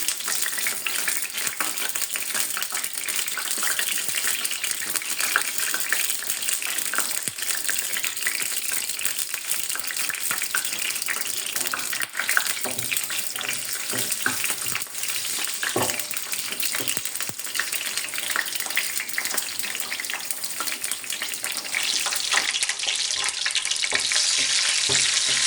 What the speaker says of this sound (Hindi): लहसुन को हमने ब्राउन कर लेना है।